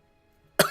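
Ganon, the dark beast boss in a Zelda video game, gives a single short harsh cough at the very end after near silence.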